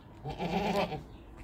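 A purebred Dutch Saanen goat kid gives a single short, nasal bleat lasting under a second, fairly quiet and close, with a faint farmyard background before and after.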